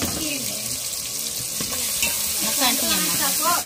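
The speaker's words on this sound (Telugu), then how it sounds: "కొబ్బరి అల్లం పేస్ట్ వేగాలి బాగా, వాసన పోయేవారికి, పచ్చి వాసన పోయేవారికి." Ginger-garlic paste frying in an oiled pan while being stirred, a steady close sizzle with scraping strokes of a spoon running throughout, no voices.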